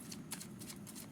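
Tarot cards being shuffled by hand, a soft, rapid papery riffle with several quick bursts of flicking over about a second, close and fairly quiet with no voices.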